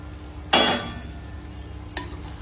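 Chicken tikka biryani stirred in a pan: one loud, close scraping stir that fades into a soft sizzle, followed by a second lighter scrape.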